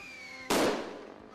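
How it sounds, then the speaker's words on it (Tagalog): A single sharp firecracker bang bursts loudly after a faint whistle during New Year's in Tondo, Manila, then its echo decays over about a second. "ang malalakas at nakabibiging paputok"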